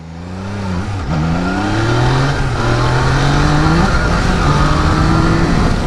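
A 600cc superbike is ridden and braked hard on the front brake. Its engine note climbs through rising revs in close, loud steps, then drops away between gear changes.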